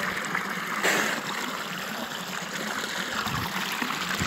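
Water flows steadily through a stone village wash-house basin, a continuous close trickling and babbling stream with no talk over it.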